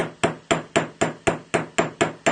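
A hammer strikes a metal jewelry rivet in an even rhythm, about ten sharp ringing blows roughly a quarter second apart, close and loud with no talking.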